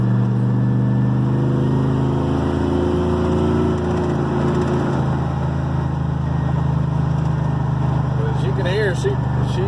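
A carbureted pickup truck with HEI ignition roars steadily while cruising on the highway, a loud, continuous low engine drone with slight rises in pitch, heard from inside the cab with someone talking over it.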